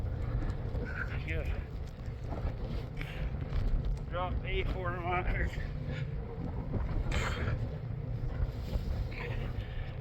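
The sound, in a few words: blizzard wind blowing on a farm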